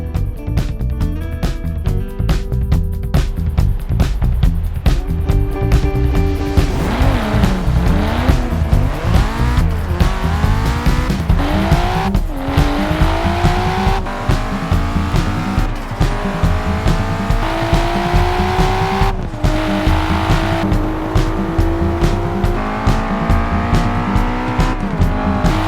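A Nissan 240SX and a Nissan Skyline GTR racing in a video game, loud engines revving and rising through gear changes with tire squeal, continuous and close for the whole stretch, no talk.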